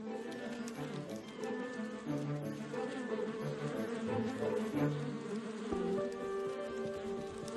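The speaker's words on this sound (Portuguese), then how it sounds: "Ela sobe nas costas das irmãs e vibra seu abdômen." Honeybees in a hive, one vibrating its abdomen in the waggle dance on the backs of the others, give a dense, steady buzzing hum that fills the whole stretch, close and continuous.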